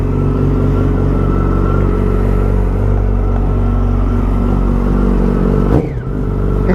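A motorcycle with a 5-valve Genesis engine, just started after months in storage, idles loudly and steadily up close, then gives a quick throttle blip near the end, with no talk.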